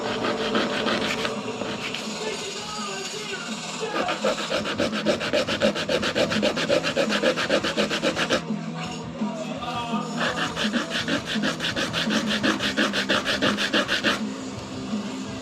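Rapid rasping strokes of hand sanding on wood, steady and close, running continuously with a brief pause midway, during a brake refresh on a 1990 Craftsman.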